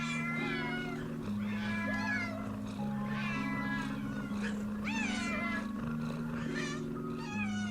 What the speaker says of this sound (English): Please come and see why you have a very fat cat.